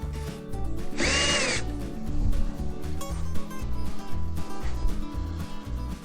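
A power drill bores into wood while a beehive is built, with a steady loud motor whine and a low rhythmic chugging as the bit bites, plus one brief higher burst partway through and no talk.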